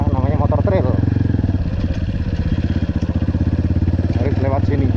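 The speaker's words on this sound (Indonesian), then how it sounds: "namanya motor trail" A trail motorcycle rides along a rough road near a bridge, its steady mid-pitched engine drone running close and continuous, with people talking over it.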